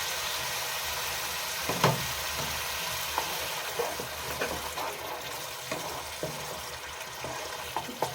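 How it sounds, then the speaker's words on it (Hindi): Ground tomatoes fry in a pan over sautéed onion for an egg dish, giving a steady close sizzle with a few soft scrapes and clinks of stirring. "इसमें डाले दे रहे हम पिसे हुए टमाटर। इसको भी हमको 1 मिनट तक पकाना है।"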